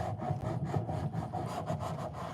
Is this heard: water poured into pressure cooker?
no